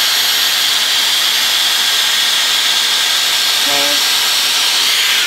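A Dyson Airstrait hair styler blows hard on boost mode, a loud, constant airy rush with no breaks.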